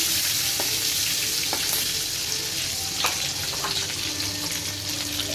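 Shrimp fry in a pan with a loud, continuous close-up sizzle and a few soft clinks as the pieces are turned.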